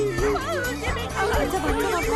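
A dog barks in yips and bow-wows during a tense indoor scene from a dubbed Indian TV drama, nearly buried under several agitated voices talking over one another.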